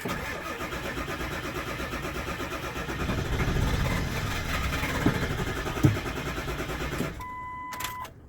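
Ford Super Duty Powerstroke diesel, left sitting for over three years, cranks for several seconds with a rough, uneven starter churn, then cuts out into quiet with a faint whine.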